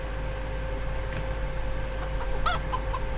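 Chicken clucking from the open-world game Minetest, a few short chirpy clucks near the end over a steady low hum and background game noise.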